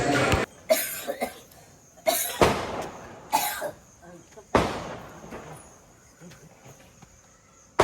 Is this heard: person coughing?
yes